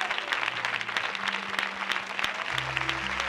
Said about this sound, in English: Clap your hands and thank God once more